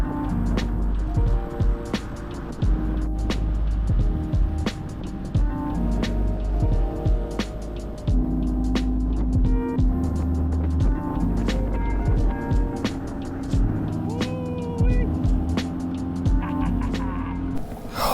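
An outboard engine pushes an inflatable fishing boat across open water, a steady low motor drone running loud and continuous throughout, with splashing and wind noise layered on top.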